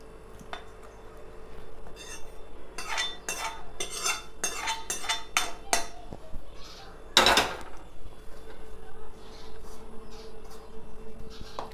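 A spoon scrapes and clinks rapidly against a pan as ghee is stirred into a laddu mixture, with a burst of quick strokes followed by one louder clatter, then softer stirring.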